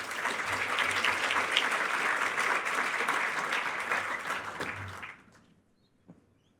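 An audience at a merit awards presentation applauds to welcome a minister. Steady, full clapping fills about five seconds, then fades quickly to near silence with a last faint clap.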